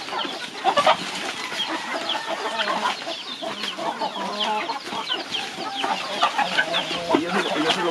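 A flock of hens clucks continuously on a rural farm, a dense overlapping chorus of close clucks with no talk.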